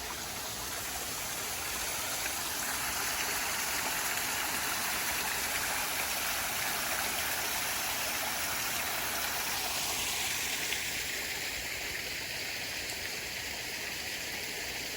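A small garden waterfall splashes and trickles steadily at night, soft and unbroken, heard alone at a quiet level.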